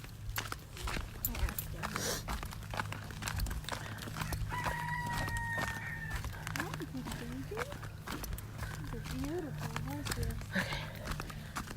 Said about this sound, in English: He's the only rooster in here, by the way.